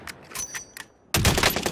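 Gunfire in the battle royale video game Call of Duty Warzone: a few sharp separate shots crack out, then a loud sustained burst of rapid automatic fire, all close and without talk.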